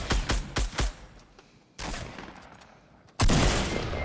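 Gunfire in the video game Fortnite, four sharp close shots in quick succession, then a louder burst and a final heavy blast with a lingering noisy tail.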